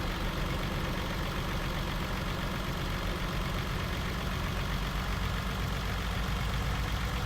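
Steady, continuous drone of a MAN 880 horsepower truck engine in Farming Simulator 19, a constant dense rumble with no pauses and no speech over it.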